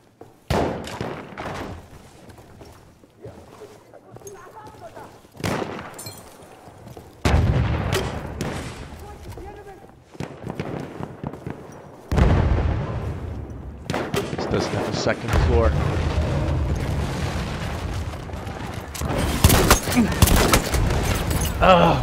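Trench shotgun blasts and other gunfire in Battlefield 1's World War 1 combat: irregular heavy booms and bursts, some close and loud, others further off, with quieter gaps between clusters.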